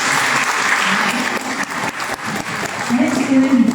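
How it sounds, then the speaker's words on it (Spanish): Audience applause at a municipal innovation workshop for women mayors, steady and fairly loud clapping across the whole stretch, with a voice surfacing near the end. "nuevamente un aplauso de reconocimiento"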